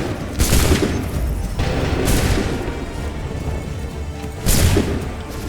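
Soldiers fire ragged musket volleys in Assassin's Creed III, three loud crackling bursts spaced a couple of seconds apart with a rumbling, noisy wash between them.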